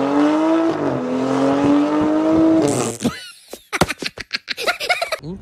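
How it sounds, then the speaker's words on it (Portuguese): A loud BMW N55 car engine roars and revs for a few seconds, then cuts off into a run of sharp, crackling pops. "que tem esse ronco maravilhoso aqui, ó"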